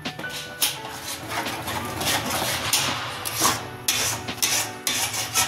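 Spice paste being stirred in a cooking pan while making a jackfruit malai kofta curry, with repeated rubbing and scraping strokes of a spoon against the pan in an uneven rhythm, no talk.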